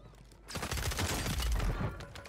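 Rapid gunfire from a battle royale video game, a dense burst of close, loud shots that starts abruptly and rattles on for nearly two seconds before tailing off.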